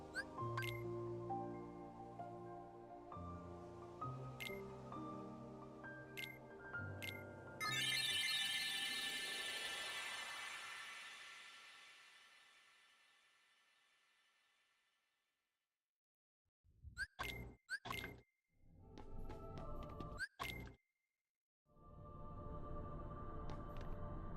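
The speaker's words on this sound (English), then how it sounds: "Phone's freaking out." A phone rings and chimes with alert tones during a Kingdom Hearts speedrun, a rapid run of tonal beeps followed by a swelling tone that fades to silence, then more short chiming bursts. The sound is fairly quiet overall.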